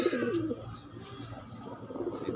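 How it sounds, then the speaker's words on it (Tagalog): Pigeons coo softly at a breeding coop, a few low, rolling coos close by over quiet background noise with faint higher chirps. "Ayan ang kalapatids, lalaki yun."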